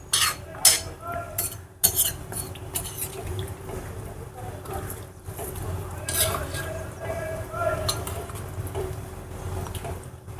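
Dishes and utensils being washed in a home kitchen: close, intermittent clinks and clatters of metal cutlery and pots, with scattered sharp knocks, under occasional talk.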